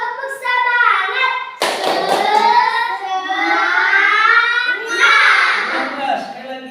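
A classroom group of children chants loudly in unison and claps sharp rhythmic bursts between the chanted lines, close and energetic.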